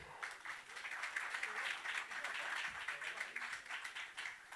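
A comedy club audience at the Rainbow Room applauds to welcome comedian Matt Billon to the stage, a steady, dense wash of many hands clapping that holds evenly throughout at a fairly distant, soft level.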